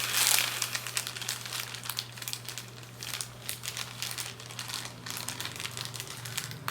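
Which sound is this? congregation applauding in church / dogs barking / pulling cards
pulling cards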